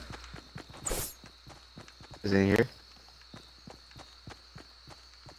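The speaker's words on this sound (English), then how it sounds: "I hear a footstep." Footsteps in a competitive online shooter's duos match tap at a steady, fast rhythm, close and moderately loud, while a player talks over them and a couple of louder bursts interrupt.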